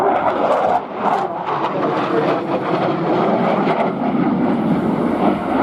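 Polish Air Force MiG-29 jet at the RIAT airshow, a loud continuous roaring rumble of jet engine noise that stays broad and sustained throughout, with no voice.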